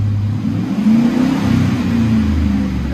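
The 5.3L V8 of a 2009 Chevy Silverado LT Z71, fitted with a Borla Pro XS dual exhaust, revs up into a deep, loud rumble and holds it, recorded close with no talking.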